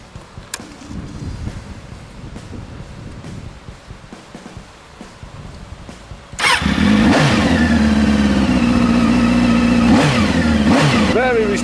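A Triumph Daytona 650, a 646cc liquid-cooled inline four with double overhead cams and fuel injection, fires up and revs loudly and close, several rising and falling revs over a steady idle, after a stretch of quieter background noise.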